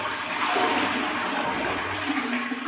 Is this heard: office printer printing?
no